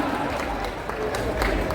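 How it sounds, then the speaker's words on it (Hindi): Audience applause at a mushaira poetry recital in Nagpur, a dense, steady patter of many hands clapping throughout, with a murmur of the crowd underneath. "आपके भाई को छोड़कर बाकी सारे लोग ताली बजा रहे हैं"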